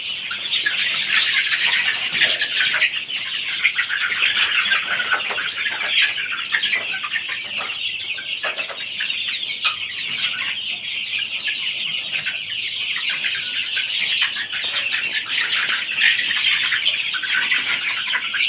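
Egyptian Fayoumi chickens on a farm cluck and squawk continuously, many birds overlapping at close range in a busy, steady flock chatter with no speech.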